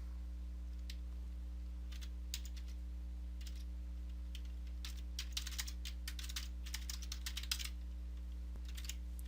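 Steady keyboard typing of code on a computer keyboard, faint bursts of clicking keys in irregular runs over a constant low electrical hum, no talking.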